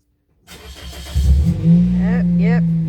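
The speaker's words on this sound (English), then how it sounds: "Yep, you're hearing our car start." A car engine cranks and starts, then settles into a steady idle close by, with a voice talking over it.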